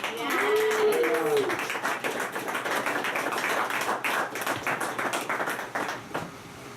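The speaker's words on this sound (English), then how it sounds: "We got an applause for the people who have come up so far." Clapping for the comedians at a stand-up comedy show, a steady patter of hands carrying on under a voice and a brief vocal whoop at the start, then thinning out toward the end.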